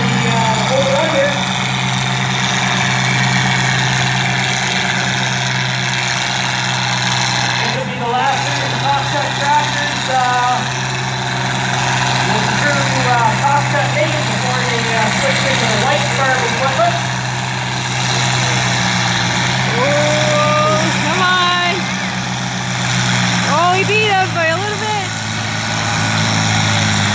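A two-wheel drive tractor at the 2018 Embro tractor pull holds a steady, loud engine drone throughout, with rising and falling revs as it works down the track, while a commentator talks over it.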